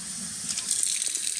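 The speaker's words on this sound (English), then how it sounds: "So let's put some water in it now" Tap water runs steadily into a container in a household sink, a close hissing splash with no talk.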